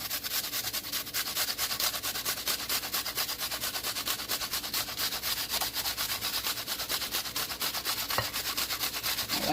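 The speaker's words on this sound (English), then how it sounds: "I'm just gonna grate it like this." An onion grated by hand on a kitchen grater, making a steady fast rasping scrape with a regular back-and-forth rhythm, close and fairly loud.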